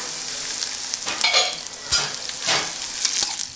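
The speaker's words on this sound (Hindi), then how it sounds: "थोड़ा सा तेल में भून लेना है, जब तक कि वो थोड़ा सा सुनहरे कलर की ना हो जाए" Finely chopped okra (bhindi) fries in hot oil as it is stirred, a steady close sizzle with scraping stir strokes swelling every second or so, no voices.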